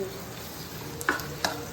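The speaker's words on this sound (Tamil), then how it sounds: "குழம்பு மசாலா போட்டு நல்லா மிக்ஸ் பண்ணிக்கோங்க." Steady frying sizzle with a few sharp scraping clinks of a spoon stirring kuzhambu masala powder in a pan for vathal kuzhambu, a Tamil tamarind curry, close by.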